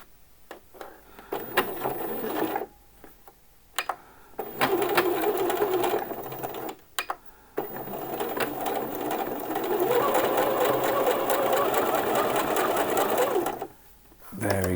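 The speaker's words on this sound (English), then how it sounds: "you want to sew along this edge here, the short edge. So again, use a zigzag stitch and a 1 centimeter seam allowance." A sewing machine runs a zigzag stitch along the short edge of a T-shirt with a 1 cm seam allowance, its steady mechanical whirring coming in several close bursts separated by brief pauses.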